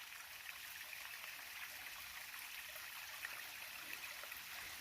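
A small mountain stream on an Appalachian Trail section runs across the path and spills down a cliff, giving a steady, close hiss of trickling water with no voices.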